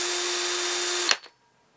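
A handheld power drill whirs steadily at a constant pitch, close and loud, then cuts off abruptly with a brief clatter as it winds down to quiet.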